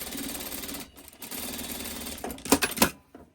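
A sewing machine stitches along the bottom edge of a Christmas tree quilt block, a close, rapid mechanical whirr that pauses briefly, resumes, then ends in a few louder clunks as it stops.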